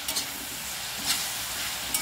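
Leftover roti noodles stir-fried with soy sauce in a pan, giving a steady close sizzle with a few brief scraping stirs, no voices.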